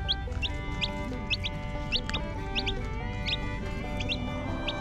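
A mother hen with her newly hatched chicks, repeated high thin peeping chirps in quick pairs every half second or so, close and clear over a low background hum, with no talking.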